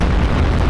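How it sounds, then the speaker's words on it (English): A huge explosion in Fallout 4 VR, a loud, dense, roaring boom that fills the whole moment, close and overwhelming, with no voices over it. "That is the biggest explosion I've ever seen."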